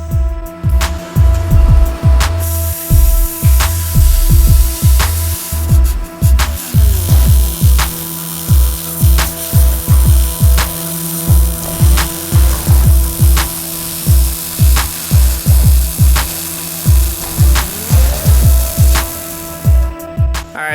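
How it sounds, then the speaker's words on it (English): Cutoff wheel trimming and grinding a metal part on a Cummins-powered rat rod build, a steady whining hum broken by many rhythmic bursts of grinding as the wheel is pressed on and eased off repeatedly, loud and close. "right now I'm just trimming this down rough fit with a cutoff wheel, and then I'll grind it down flat"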